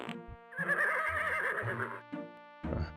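A horse whinnies in the Freddy Pharkas video game, a loud, shaky neigh with strong harmonics lasting over a second, followed by two short snorts or hoof thumps.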